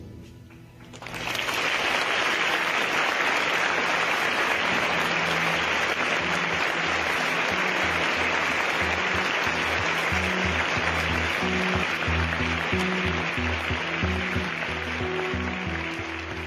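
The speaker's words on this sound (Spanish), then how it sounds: "un minuto de aplausos para este joven" Sustained applause from a large crowd, starting abruptly and holding at a steady, dense level throughout, at a university tribute to an 18-year-old sprinter.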